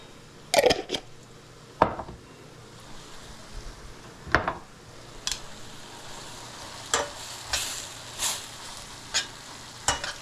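Food sautés in a pan with a steady low sizzle, broken by a dozen or so sharp stirring scrapes and clacks spread unevenly across the stretch, close and fairly loud, with no voices.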